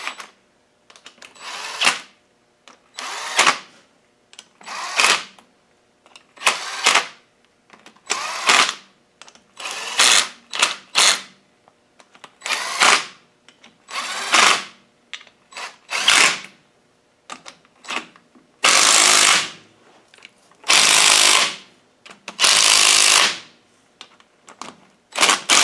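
A power tool zips bolts down on an LT230 gearbox during a mainshaft gear change and reseal: about fifteen sharp, close bursts, each roughly a second long, with short pauses between and no talking.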